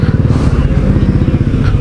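A motorcycle on a road trip from India to Nepal, its engine throbbing loud and close with a steady rapid pulsing rumble throughout, wind noise on top.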